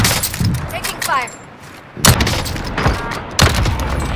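Gunfire in Call of Duty Warzone, with sharp bursts and booming shots at intervals, loud and close, among game sounds and brief chatter.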